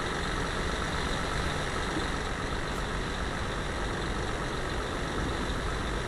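A container truck's diesel engine idles in Euro Truck Simulator 2 as a steady, dense low rumble with a constant drone and no variation, with no voices.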